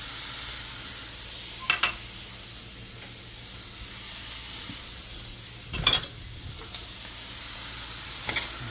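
Onions and jalapeno fry in a pan with leftover steak, giving a steady soft sizzle with a few sharp clanks of a utensil against the pan, fairly close and without talk.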